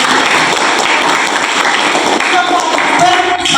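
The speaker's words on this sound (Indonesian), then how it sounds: "Silakan berikan tepuk tangan." A classroom group claps in a dense, steady burst that runs the full length at close range, with some talking mixed underneath.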